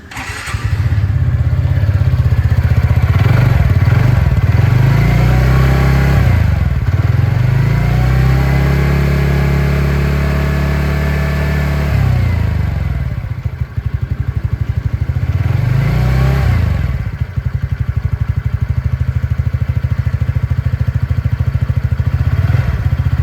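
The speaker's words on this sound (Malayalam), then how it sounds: "ഞാൻ ജസ്റ്റ് ഒന്ന് വണ്ടി സ്റ്റാർട്ട് ചെയ്തിട്ട് നിങ്ങൾക്ക് അതിൻ്റെ സൗണ്ട് ഒന്ന് കേൾപ്പിച്ച് തരാം" A 2025 TVS Ntorq 125 Race XP scooter's 125 cc engine cranks and catches, then idles and blips loudly up close, with a couple of rising revs and drops across the run and no voices.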